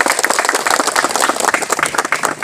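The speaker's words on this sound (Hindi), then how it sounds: "जोरदार से ताली बजा दे।" An audience claps loudly and steadily at an outdoor welcoming ceremony for peace accord signing dignitaries in Dokmoka. Dense, continuous applause fills the moment with no speech.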